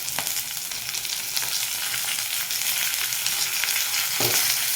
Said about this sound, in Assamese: ভাজা হওঁতে মই লগতে দি লৈছো আদা নহৰুখিনি